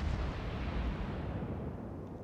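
Torpedoes launching from a Japanese Akatsuki-class destroyer in the naval battle game World of Warships, heard as a dense, continuous low rumble of booming game effects with no voices.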